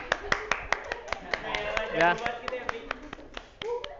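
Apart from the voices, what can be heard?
clapping for Ani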